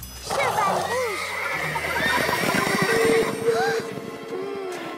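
A horse neighs and whinnies in a cartoon setting, its rising and falling calls repeating several times close by over hoof clatter and background music, with voices speaking at times.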